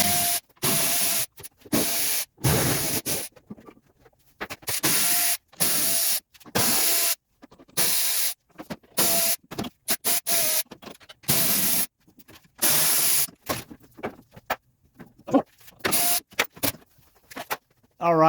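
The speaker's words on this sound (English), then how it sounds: "let's go ahead and remove this belly pan" Rapid, irregular bursts of harsh, hissing tool noise, each lasting a fraction of a second with short gaps between, as roughly ten 8mm bolts are removed from the belly pan under a 1995 Mercedes E300.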